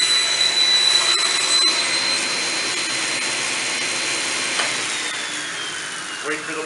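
A table saw blade trims the end of a wooden tabletop with a routered edge, giving a steady loud whine with a high tone that holds and then slowly drops as the blade winds down.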